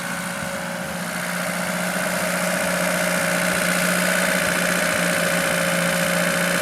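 A Lada Niva engine idles steadily on its own with a continuous low hum and even vibration, holding a constant level throughout.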